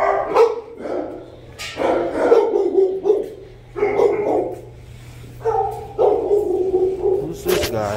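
A small dog yips and barks in short bursts, several quick high-pitched barks close by, with a soft whimper mixed in.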